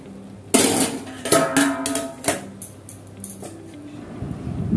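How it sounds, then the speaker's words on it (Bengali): A pot of cooked rice handled while its starch water is drained: loud metallic clanks and scrapes come in a few close, uneven knocks, with a softer rattle between them. "ভাতের ফ্যান ঝরানো হয়ে গেছে"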